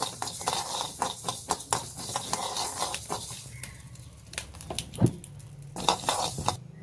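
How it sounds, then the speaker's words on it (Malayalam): Mustard seeds are tossed into a pan of dry-roasting fenugreek for a raw mango pickle, with close metallic scraping, rattling and stirring clatter, uneven sharp clinks and a faint sizzle underneath. "ഉലുവ വറുത്തെടുക്കാം കേട്ടോ കുറച്ച് കടുകും വേണം ഇത് വറുത്ത് വരുന്നുണ്ട് നമുക്ക് കടുക് ഇട്ട് കൊടുക്കാം"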